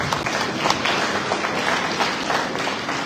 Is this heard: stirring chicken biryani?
no